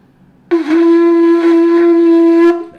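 A small conch shell with a narrow air passage gives a single high-pitched sustained note of about two seconds, steady and close, starting abruptly and then fading out.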